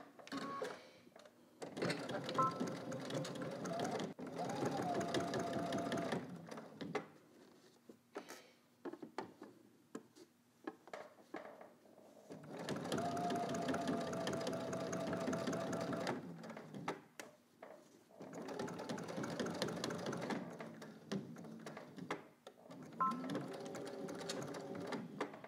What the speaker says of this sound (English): So let's head to the machine and let's close out the top.